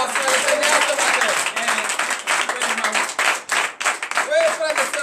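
Congregation at a morning prayer service in Benin claps and cheers in joyful acclamation, loud rhythmic clapping mixed with shouting voices, with a few brief pauses and bursts toward the end.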